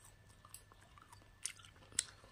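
Someone chewing sweet guava, soft wet mouth sounds with a few crisp bites, close but quiet, no talking.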